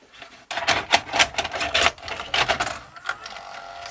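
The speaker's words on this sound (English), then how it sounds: "I guess we'll put a tape in and see what it does." A Panasonic NV-HD630 hi-fi VCR loads a tape: a quick run of close, irregular mechanical clicks, clacks and whirring chatter that then settles into a quieter hum.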